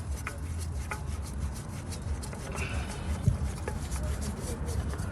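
An oil filter is screwed on by hand under a 2008 Nissan Maxima during an oil change, giving continuous close rubbing and gritty scraping over a low background hum.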